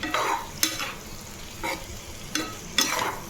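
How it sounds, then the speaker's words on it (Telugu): Chopped onions and tomatoes frying in a pan for paneer curry, with a constant sizzle broken by a few sharp scraping strokes of a spoon stirring them, close and fairly loud, no talking. "చూడండి ఎంత సౌండ్ వస్తుందో, మంచిగా అనిపిస్తున్నాయి కదా టమాటోస్, ఆనియన్స్"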